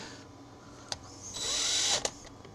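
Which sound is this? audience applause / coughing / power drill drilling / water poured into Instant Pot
power drill drilling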